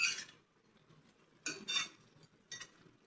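Mutton frying in a pan is stirred with a metal utensil, giving a few scraping, clattering bursts over a soft, steady sizzle, close up and without speech.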